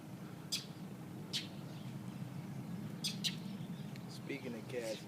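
Birds chirping while attacking a cat, several short sharp chirps spread across the moment over a low background hum, with people talking.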